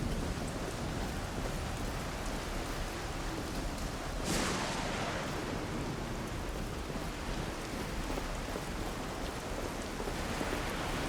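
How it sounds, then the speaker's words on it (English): Steady rain ambience from a video game, a dense hiss of falling drops filling the whole stretch at an even, fairly loud level with a brief brighter swell partway through. "But I do like the effects of the rain."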